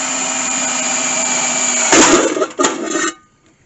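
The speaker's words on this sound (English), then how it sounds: "I've actually got my bit running backwards so that my hole doesn't wind up all jagged and stuff." A power drill bores a hole with its bit running in reverse, whining steadily and loudly up close, then bogging and surging in a couple of grinding bursts before the motor stops.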